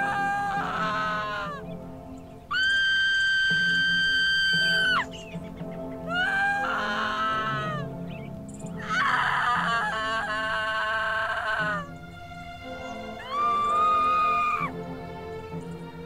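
A character in the video game The Procession to Calvary lets out several loud, drawn-out, wailing screams in separate bursts, with short quieter gaps between them.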